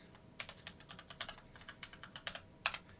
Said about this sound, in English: Just type that in, only remember it.